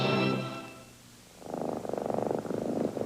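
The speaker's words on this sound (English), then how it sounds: "There's a sound a cat makes when she's really happy and healthy." Close, soft purring from a cat, rhythmic and steady after a brief burst of other sound at the start.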